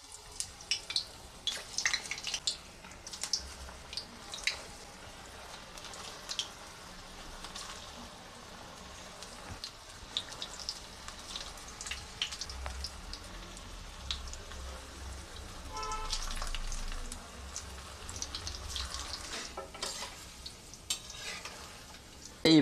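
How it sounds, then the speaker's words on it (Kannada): Onion pakoda batter dropped into hot oil for deep frying, a soft continuous sizzle and bubbling with light stirring and scraping noises, fairly quiet and close, no talking. "ಈಗ ಪಕೋಡ ಬಿಡ್ತಾ ಇದ್ದೀನಿ."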